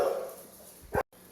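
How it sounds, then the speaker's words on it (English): A single short dog bark sounds at a distance over faint background noise, followed by an abrupt cut to silence. "That's my dog barking."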